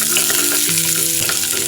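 Chopped onion hits hot oil in a frying pan while cooking pechay with mackerel, a loud, steady sizzle and crackle with no talking.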